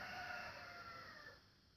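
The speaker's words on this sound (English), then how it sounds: "sorry about the rooster, he just likes to do that whenever I want to film" A rooster crows once, a drawn-out strained call that fades toward the end, fairly distant and faint.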